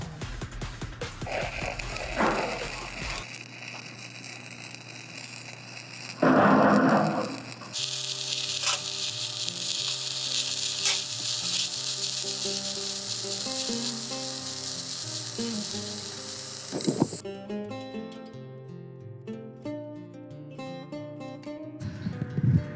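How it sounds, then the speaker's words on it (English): Welding on a steel pull head plate gives a steady crackling sizzle that changes character in several distinct stretches, with a brief louder burst partway through and tonal hum underneath. "Flip her over, continue welding this side."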